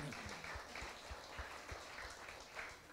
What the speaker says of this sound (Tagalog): Palakpakan po natin ang Panginoon. Malakas sa palakpak po kay Lord.